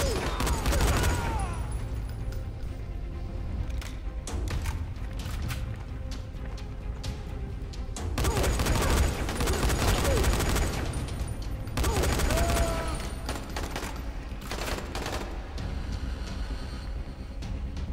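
Heavy gunfire in the zombie video game Dying Light, a loud, dense wash of rapid automatic shots and explosions that runs continuously, swelling in bursts over a constant rumbling background.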